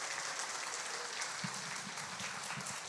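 A congregation at a church praise and testimony gathering claps in a short, steady burst of applause, dense and even, with no speech over it.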